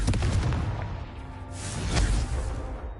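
Confringo, the blasting spell in Hogwarts Legacy, detonates with a heavy rumbling boom and crackling burst that swells and fades over a few seconds, loud and close, with no talk.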